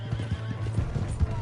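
A horse in Red Dead Redemption 2 whinnies while its hooves clop in quick rhythm, close and fairly loud, a short burst of neighing over steady footfalls.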